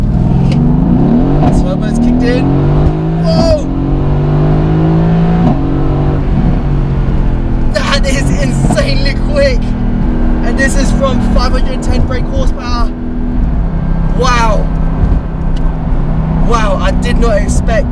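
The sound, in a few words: Mercedes AMG GTS twin-turbo V8 accelerating hard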